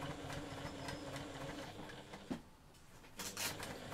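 A sewing machine stitches fabric for a Christmas pudding mat, a steady close motor hum with rapid needle chatter that pauses briefly before a few louder clicks resume.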